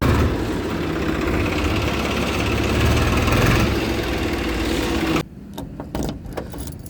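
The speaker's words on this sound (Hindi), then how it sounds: "तो बस ट्रैक्टर चढ़ा के वो ठीक कर रहा है।" A tractor working over dug-up, uneven soil to level it, its engine a steady loud rumble for several seconds before cutting to quieter scattered knocks and clatter.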